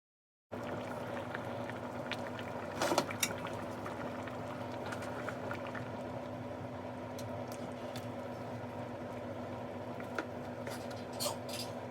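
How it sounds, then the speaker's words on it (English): Haitian pumpkin soup (soup joumou) simmering in a pot, a steady low bubbling wash with a faint hum, a few small clinks and one brief louder clatter early on, no talking. "Let it simmer."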